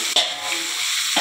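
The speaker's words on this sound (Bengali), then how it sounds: "তারপরে দিয়ে দিচ্ছি কাঁচা লঙ্কা আর টমেটো" Green chili and tomato dropped into a hot frying pan set off a short, close burst of sizzling that settles into a steady hiss, with a brief clatter at the start and end.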